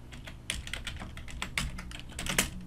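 Quick, uneven keystrokes on a computer keyboard, close and fairly quiet, clicking in short irregular bursts.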